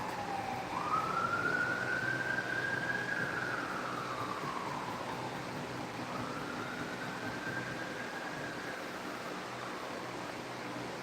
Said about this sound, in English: Uh-oh, ambulance.